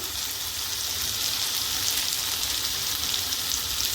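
Soybean curry fries in a pan as chilli and coriander powder are stirred in, producing a dense, steady, rain-like sizzle that stays loud and even throughout.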